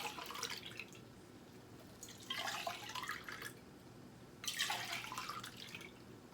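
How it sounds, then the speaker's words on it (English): Water is poured into an empty food can to rinse it out while making chili. Three separate splashing pours, each a second or two long, sound close and fairly quiet, with short pauses between them. "I've got some water, and I'm going to take and pour it in one of these cans"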